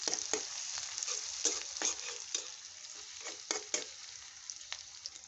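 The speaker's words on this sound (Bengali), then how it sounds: "এখন এটাকে ভালো করে নেড়ে চেড়ে মিশিয়ে নিতে হবে।" Chopped onion and green chillies sizzle steadily in oil in a pan while a spoon stirs them, scraping and clinking at irregular intervals over a continuous soft frying hiss.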